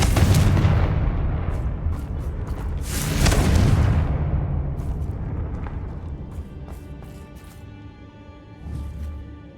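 Confringo fire-spell explosions in Hogwarts Legacy on PS5, heavy booming blasts with rumbling, crackling decay that fades out, then a further smaller burst toward the end.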